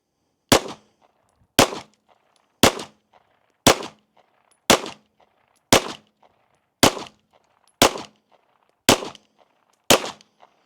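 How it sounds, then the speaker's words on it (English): Ten evenly spaced shots ring out from an EAA Girsan MC9 Disruptor pistol firing cast-bullet reloads at a target, each a sharp, loud crack roughly a second apart. "Let's shoot a 10-shot group at that middle left."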